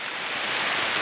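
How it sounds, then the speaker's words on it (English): Steady heavy tropical rain pours down during a tilapia harvest at a farm in the Philippines, a dense even hiss with no voices. "Now catching in the rain. Yeah, it rained a lot."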